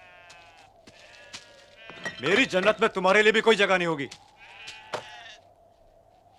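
Sheep bleating in a long, wavering series, loud and close, between stretches of someone speaking.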